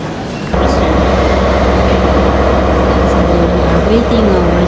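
A train rumbles at a station in Vienna. A low steady drone with a faint squeal starts abruptly and then holds constant and fairly loud, with a faint voice in the background.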